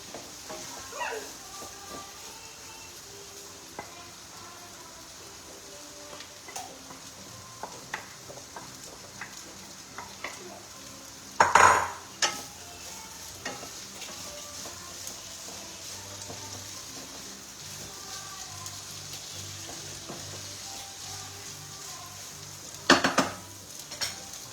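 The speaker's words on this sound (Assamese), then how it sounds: "ভাতখিনি দি ধুনীয়াকৈ মিলাই ল'ম" Jeera rice is stirred into a frying pan with a utensil, soft scraping and gentle sizzle throughout, with two loud metallic clangs against the pan standing out.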